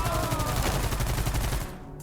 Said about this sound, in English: I'm going to mow them down with the submachine gun